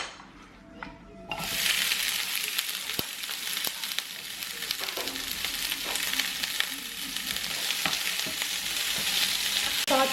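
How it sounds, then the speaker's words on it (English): Seasoning sautés in vegetable oil in a preheated pot for a Jamaican cabbage and corned beef dish, a loud sizzle bursting in and holding steady with occasional stirring clinks over the hiss. "I'm going to throw all my seasoning in there to saute just a little bit"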